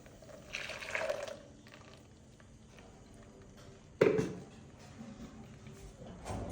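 Blended orange juice strained through a sieve in a home kitchen, with two bursts of liquid pouring and splashing, a quieter trickle between them and a clatter of utensils.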